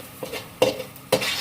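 Minced garlic browning in oil for buko pancit, a soft sizzle broken by two sharp scraping strokes of a utensil against the pan, close up, with no voices.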